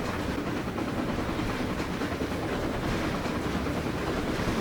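A steam-era excursion train rolls steadily along the rails over a river valley, its continuous broadband rumble and clatter loud and close throughout, with no voices.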